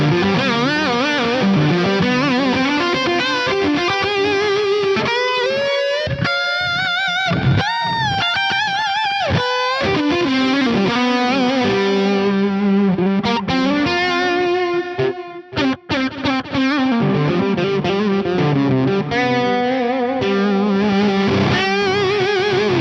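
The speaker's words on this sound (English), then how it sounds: "Let's hear this fuzzy 45 lead." A fuzzy 45-style lead guitar tone from a Fractal Audio FM3 plays a distorted, sustained melodic line with bends and chorus-like shimmer, loud and continuous throughout, with no talking.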